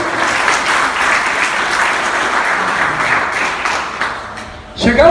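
A church congregation applauds in a sustained, dense wash of clapping that holds steady for several seconds, with voices mixed in and a brief louder swell near the end.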